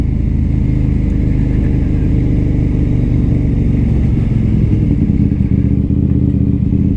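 A KTM Duke 890R motorcycle is ridden on a cold morning, its engine a loud, steady, close drone with continuous rumbling wind and road noise throughout and no talking.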